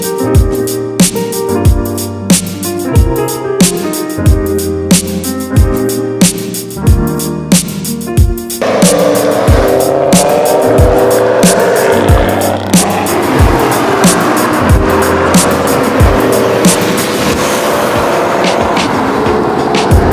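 A rally car drives on a road in Colorado. A rhythmic series of clacks and thumps under steady engine drone gives way halfway through to a louder, continuous rush of engine and road noise.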